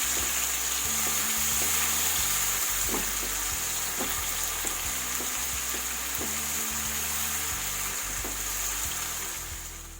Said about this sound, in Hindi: अब ये मैं 1 चम्मच अदरक और लहसुन का पेस्ट डाल रही हूँ।